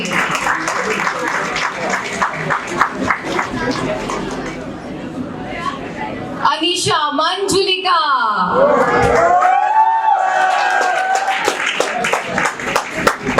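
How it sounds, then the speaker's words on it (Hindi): At a school academy function, a crowd claps for a girls' act performance, with shouts, whoops and an announcer's voice over the steady applause. "जोरदार तालियां गर्ल्स एक्ट की परफॉर्मेंस के लिए"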